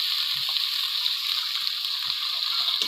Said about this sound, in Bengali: দিয়ে দেবো হালকা জল।